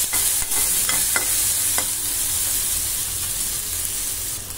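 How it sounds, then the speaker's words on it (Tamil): Onions sautéing in a pan hiss with a loud, steady sizzle, broken early by a few sharp stirring clacks from a utensil, close up and with no voices. "நல்லையா ஆனியன் வதங்கட்டும்"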